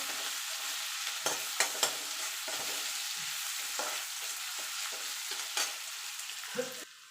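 Chopped garlic and ginger sizzling in oil in a kadai for chilli chicken, stirred with repeated scraping strokes over a constant close frying hiss, with no voices.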